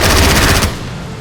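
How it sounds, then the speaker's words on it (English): Aircraft machine gun from a strafing run in the strategy game Strategic Mind: Blitzkrieg, a loud, close, rapid burst of rattling fire that cuts off after about half a second, leaving a fading tail. "Ready for strafing run."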